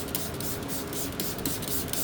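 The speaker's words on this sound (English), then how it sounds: "how many times do you want to spray that trigger?" Fine hissing bursts from a trigger spray bottle of F-Bomb tire cleaner, about eight quick repeated squirts in a steady rhythm, close and fairly quiet.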